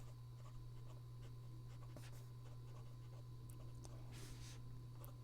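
An ink pen writes on paper in a quiet room: faint, scattered scratches of nib strokes sit over a steady low electrical hum.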